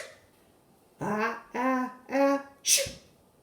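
A nearby person gives three drawn-out, rising breaths, then a sharp, explosive sneeze.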